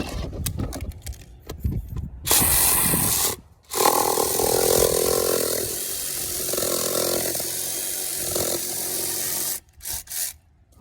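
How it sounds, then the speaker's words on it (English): A DeWalt reciprocating saw cutting in a garage, a loud, steady rasping roar that runs for most of the clip, broken by short pauses and a few brief closing bursts. "This is the sawzall I use if it's going to get dirty or be abused."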